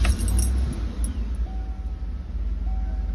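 A 2014 Chevy Tahoe engine, just back together after a wheel bearing hub assembly install, turns over and settles into a steady, loud low rumble that carries on throughout, with a faint metallic jingle near the start.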